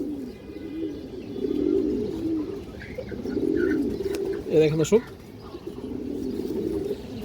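Kaldom and Indian high flyer pigeons, including a cream-eyed Kaldom, coo in repeated low rolling phrases close by, while someone speaks briefly partway through.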